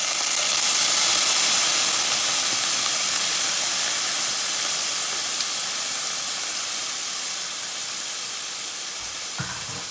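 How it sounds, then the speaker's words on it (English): Potatoes land in a hot pan and set off a loud, broad sizzling hiss that holds steady and slowly fades over ten seconds. "Next, I'm going to dump my potatoes."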